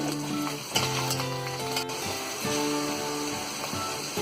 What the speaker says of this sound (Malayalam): ചെറുതായിട്ട് അരിഞ്ഞ സവാളയും കൂടെ നല്ലതുപോലെ ഇളക്കിയെടുക്കും